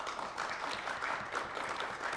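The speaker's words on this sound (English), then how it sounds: "I'm already happy that you were clapping even for Belvidere" An audience at a Belvidere versus Durand quiz competition applauds for the Belvidere team, a steady, dense wash of clapping heard alone at moderate distance.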